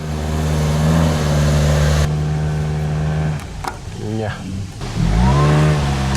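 A Honda CR-V urban crossover labours up an off-road hill, its engine droning loudly and steadily, then faltering and dipping before surging again; voices briefly talk over the strained revving.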